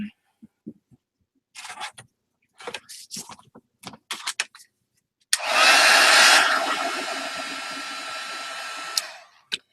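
A hair dryer blasts a steady, loud whoosh for about four seconds over Indian ink on an art journal page, after a stretch of soft handling taps and clicks, then cuts off abruptly.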